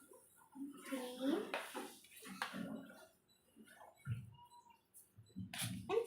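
Spoonfuls of sugar added to a pot for masala tea, a few close metallic clinks of a spoon against the pot scattered among soft clatter, with someone talking throughout.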